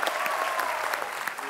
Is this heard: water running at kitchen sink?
no